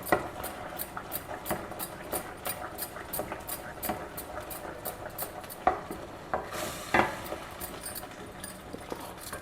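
A spoon stirs a thick, sweet prasadam mixture with cardamom in a pan, producing quiet, evenly spaced scraping taps and clicks in a steady rhythm, with a couple of sharper knocks near the end.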